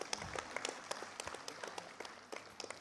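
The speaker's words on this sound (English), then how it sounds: "Please support with a round of applause" An audience at a public government program applauds with scattered, light clapping, individual claps audible as sparse sharp hits over a quiet hall rather than a dense roar.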